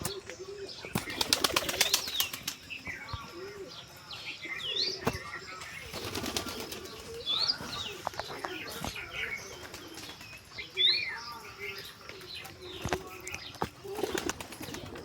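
Pigeons kept at home cooing and flapping their wings, with bursts of loud wingbeats and rustling mixed with soft coos and sparrow chirps nearby.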